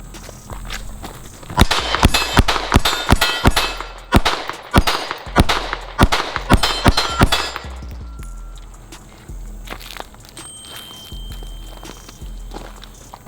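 A pistol drawn from an IWB/OWB holster fires a full magazine in a rapid string of about a dozen sharp, loud shots, followed by quieter handling clatter and ambient noise.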